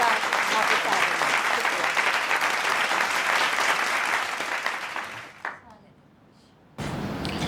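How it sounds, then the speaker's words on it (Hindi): Audience applause welcoming a poet on stage at a shayari show, dense loud clapping sustained for about five seconds before fading out, a brief quiet gap, then a voice begins speaking. "ज़ोरदार तालियों से उनका आपके साथ"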